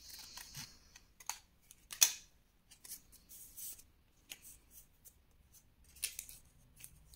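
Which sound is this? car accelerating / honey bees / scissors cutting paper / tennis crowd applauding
scissors cutting paper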